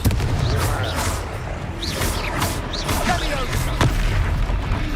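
Repeated blasting-spell explosions in the Hogwarts Legacy video game, loud booming bursts recurring every second or so over a dense bed of combat noise, with voices calling out spells.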